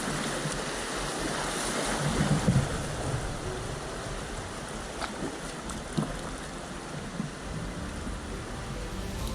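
Shoals and rapids on the French Broad River produce a steady, broadband rush of moving water, continuous and fairly loud throughout, with no voices present.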